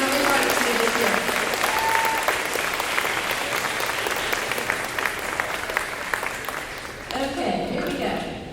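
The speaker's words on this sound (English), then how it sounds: "students, give a big round of applause to your new AD, Ms. Cowell." Junior high school students clapping at a recognition ceremony, sustained loud applause with some crowd noise that eases slightly before a brief shift near the end.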